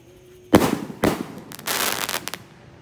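A Basoka Roman candle firework launching on a Ramadan night, with two sharp loud bursts followed by a longer crackling, hissing rush that tapers off, close by and with no talking.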